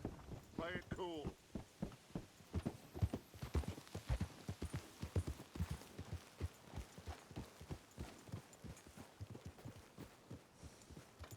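Horse hooves clip-clopping at a steady walking rhythm in Red Dead Redemption 2, close and continuous, with a horse's whinny near the start and quiet game sounds underneath.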